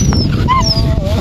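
A dog being pulled along on a leash gives short high whimpers and yips, close and clear, over a low rumble of background noise.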